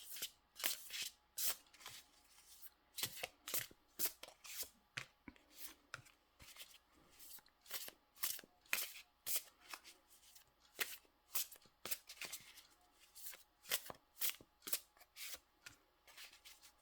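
Tarot cards being shuffled by hand in a series of quick, crisp riffling bursts with short pauses between, close and fairly quiet, no talking.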